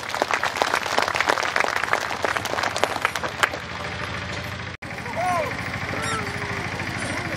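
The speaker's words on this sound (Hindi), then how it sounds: "आइए हम सब एक साथ मिलकर प्रत्येक जन के लिए जोर से ताली बजाएं।" Church congregation applauding loudly for each person at a Catholic thanksgiving Mass in Simdega diocese, dense rapid clapping for about three and a half seconds that thins out, followed by softer background sounds and a voice.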